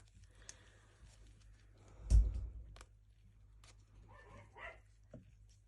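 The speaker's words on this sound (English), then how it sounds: "I've just had a warning that the dog's about to bark" A dog barks once, fairly close, with a few faint whimpers and scuffles around it in an otherwise quiet room.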